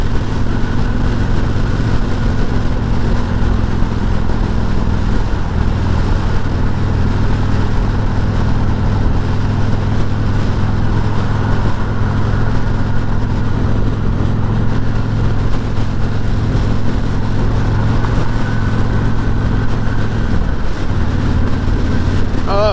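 A 2021 Harley-Davidson Freewheeler trike cruises in fifth of six gears, a steady, close, low engine rumble with wind noise throughout and a brief dip near the end.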